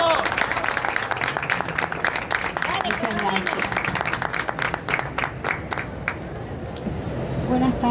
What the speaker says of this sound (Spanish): le quiero que le brindemos un fuerte y caluroso aplauso a Ana Carol Enríquez.